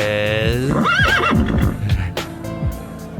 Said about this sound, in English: There's the wonderful horses.